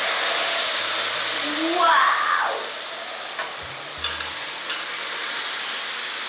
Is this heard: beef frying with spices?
yes